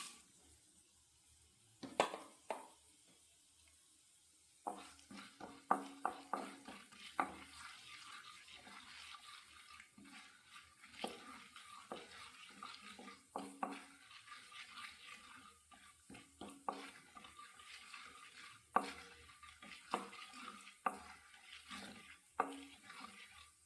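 Urad dal and chana dal dropped into hot oil, sizzling and crackling in a pan, with irregular pops and spatters over a soft steady hiss and occasional clinks of a utensil.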